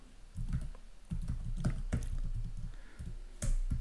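An IP address being typed on a computer keyboard during Windows Server setup, a quick run of close, soft key clicks and taps in steady rhythm.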